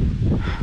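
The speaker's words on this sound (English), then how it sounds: "now it's a little bit windy" Wind gusting across the microphone during a motorcycle ride through a city, a steady loud rumble of buffeting with rustling texture throughout, no talk.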